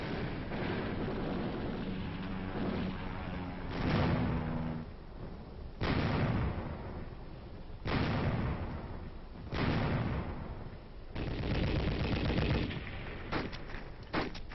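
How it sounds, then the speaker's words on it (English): Bombs, bullets and rockets from attacking aircraft during the Korean War, heard as heavy booming blasts and rolling gunfire bursts roughly every two seconds over a dense continuous rumble, loud and muffled like an old film recording. "the aircraft came in to hit with bombs, bullets, and rockets"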